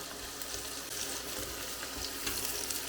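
Steady frying sizzle with a soft watery crackle running throughout, close and continuous with no talking, as tomatoes fry with onion for Ukrainian eggplant caviar.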